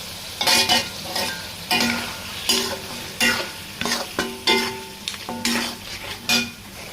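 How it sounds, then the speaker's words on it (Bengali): Country rooster meat frying in oil spiced with turmeric, chili powder and salt, sizzling in a pan while a spoon stirs it in repeated scraping, clattering strokes, close and loud with no voices. "মশলা কষানো শেষের ভেতর আমি মাংসগুলো দিয়ে দেবো কষানোর জন্য"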